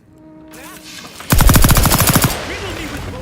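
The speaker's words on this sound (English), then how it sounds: "Riddle me with bullets all you like." Gunfire in The Outer Worlds 2 video game, a loud, rapid automatic burst of around a second, preceded by quieter game ambience and followed by fading echoes.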